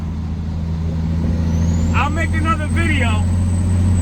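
A Peterbilt 379 truck with an 18-speed transmission idles and runs with a steady low diesel drone through the whole stretch, while someone talks briefly over it and a faint high whine rises partway through.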